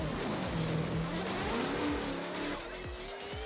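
A virtual 1980s Toyota Supra drift car in a sim racing drift battle roars under sustained engine revs with rising and falling pitch as tyres squeal through the zones, loud and continuous with no talk.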